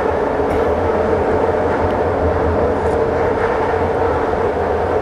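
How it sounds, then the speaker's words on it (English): A train rolls past close by early in the morning, a steady loud rumble with a constant rattling drone that holds for several seconds, no voices over it. "I hear another Damon train coming again."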